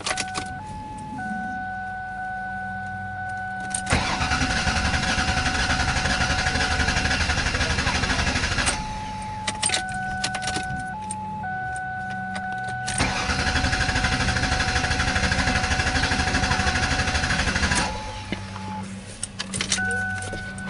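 A Ford Taurus with a 3.0L OHV engine cranks in two long bursts of steady starter churning with the coil pack unplugged, each preceded and followed by electronic chimes.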